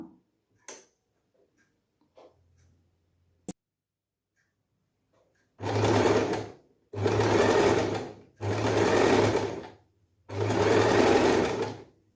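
A sewing machine stitches thread neck piping in four loud, close, whirring runs separated by short pauses. Faint clicks and handling noises come first in near silence.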